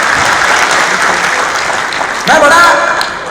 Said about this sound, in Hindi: तालियां ऐसी बजाइए कि मुझे लगे कि आप लोगों को अच्छा लगे।